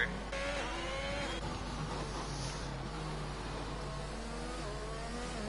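A sim racing car engine in Azerbaijan sprint qualifying, steady and droning with shifting pitch as the car powers down toward a corner, continuous with no talk.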